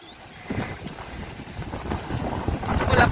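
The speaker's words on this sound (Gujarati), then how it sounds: "તમને પવનનો અવાજ આવતો હશે. ફૂલે ફૂલ અત્યારે પવન નીકળ્યો છે." Strong gusting wind buffets the microphone outdoors during a stormy spell, rising in uneven roaring bursts that swell louder toward the end.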